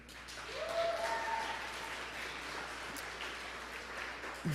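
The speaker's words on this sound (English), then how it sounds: "So clap for yourselves again." A workshop audience at an edutainment forum claps for itself, a moderate spread of applause that swells early and thins out gradually, with a few faint voices underneath.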